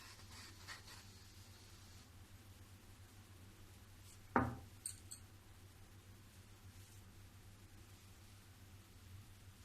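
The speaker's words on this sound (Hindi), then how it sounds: "अब मैं इसको एक गिलास से काटूंगी।" A drinking glass cuts through rolled dough, landing as one sharp knock on the board, followed by a couple of faint clicks against a quiet, humming kitchen background.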